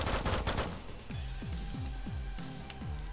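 Rapid video-game gunfire from Megabyte Punch, a dense burst of shots followed by a string of sharp repeated blasts with falling tones, loud and close with no talking.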